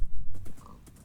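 Hooves clip-clop from a horse in a forest area of a video game, a few quick close knocks over about a second.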